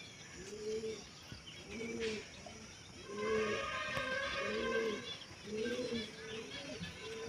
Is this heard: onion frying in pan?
no